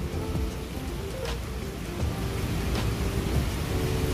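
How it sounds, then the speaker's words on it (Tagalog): Heavy rain pours steadily and loudly on a city street in Singapore, a dense unbroken hiss that fills the whole stretch with no voices. "Ang lakas ng ulan."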